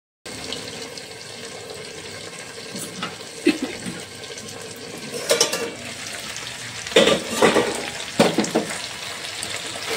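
Chicken pieces sautéing in oil for a coriander chicken dish, a continuous sizzle under irregular stirring scrapes and louder clattering knocks of the spatula against the pan in the second half, near and without speech.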